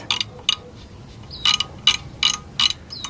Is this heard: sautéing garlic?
no